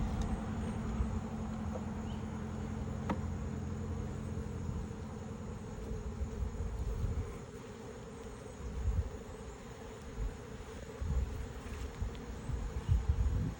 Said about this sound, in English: Now you're just gathering up numbers of bees now,